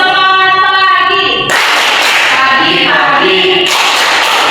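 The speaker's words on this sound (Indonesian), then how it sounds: "Tepuk semangat pagi" Schoolchildren in a classroom chant a morning cheer together and clap in rhythm. Loud, close claps land between the sung chanting voices.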